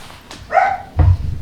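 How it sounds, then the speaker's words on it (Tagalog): A dog gives a couple of quick, sharp barks nearby, followed by a lower rough yelp. "Ang ingay pa ng mga aso ko"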